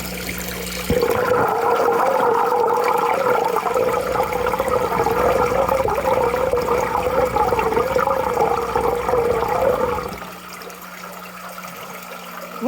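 Steady, loud rushing and burbling water in an aquaponics fish tank as a camera is dunked below the surface, continuous for about nine seconds before dropping to a softer hum.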